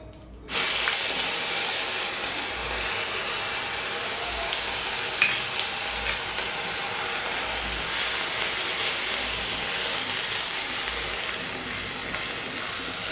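Chili, ginger and onion paste sizzles steadily in hot oil with black cumin seeds in a pan, a loud continuous hiss and crackle that starts abruptly and carries on alone without pause.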